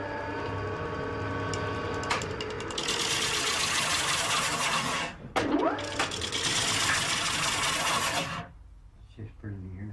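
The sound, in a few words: lathe turning while parting spinning wheel rim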